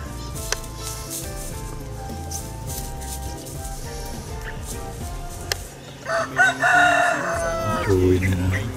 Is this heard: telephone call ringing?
no